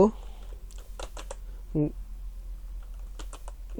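Keys on a computer keyboard are pressed in brief clustered clicks, with a faint steady hum behind and a voice speaking intermittently between the keystrokes.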